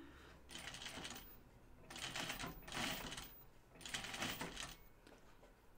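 A sewing machine stitches gauze fabric for a dress in several short bursts, a quiet, rapid clatter separated by pauses.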